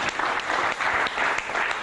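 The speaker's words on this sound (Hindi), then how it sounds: "तालियों के साथ स्वागत" Warm audience applause greets a guest coming on stage at a talk show, a brief, full wash of clapping heard on its own.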